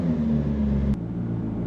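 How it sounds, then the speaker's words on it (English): A McLaren P1 MSO hypercar's engine rumbles low and steady nearby, then a sharp click cuts it to a quieter, deeper hum. "pressing the start engine button. So I warn you, it's going to be quite noisy."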